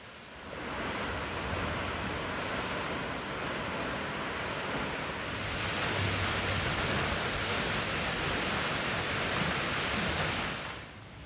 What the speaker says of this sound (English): At 90 feet tall, it's officially the tallest publicly accessible waterfall in Indiana.